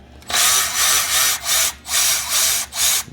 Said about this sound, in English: The old Milwaukee battery ratchet here.